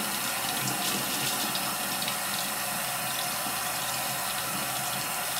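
Water runs steadily from a tap as peroxide is rinsed out of a wig's hair and closure. It is a constant, even splashing hiss, moderately quiet, with no talking.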